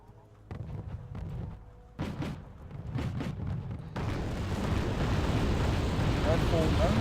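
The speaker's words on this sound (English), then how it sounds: "Draken dropping in some bombs." Bombs dropped by a Draken jet explode in Wargame: Red Dragon, giving a series of rumbling blasts that build into a sustained roar of detonations, with battle noise layered throughout.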